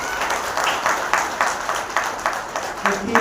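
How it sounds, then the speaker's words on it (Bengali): An audience at a business plan meeting claps in a steady, rhythmic run of loud claps that fills the room. "তাদের জন্য আমি জোরে হাততালি দেব।"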